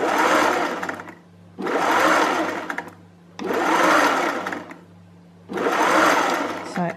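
A domestic sewing machine stitches the side gussets of a zero-waste Ursa dress in four loud, steady whirring bursts of about a second and a half each, separated by brief pauses.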